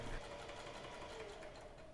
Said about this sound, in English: sew close to the fold all the way around the hem